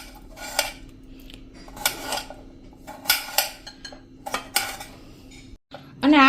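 Knife chopping potatoes into big pieces on a cutting board, several separate dull knocks and clinks spaced over a few seconds, close and fairly quiet, with no talk.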